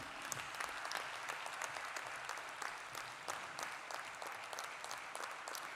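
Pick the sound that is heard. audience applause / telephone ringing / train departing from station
audience applause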